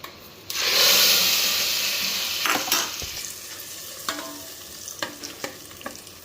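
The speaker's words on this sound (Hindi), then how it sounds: "ये घी में मखाने डाले हुए हैं और ये कुछ ड्राई फ्रूट्स भी। बस इसका ही तड़का मैं लगाऊँगी खीर में।" Hot ghee with makhana and dry fruits hisses loudly as the tadka is poured into kheer, a sudden bright sizzle that fades into softer crackling and occasional spoon clinks.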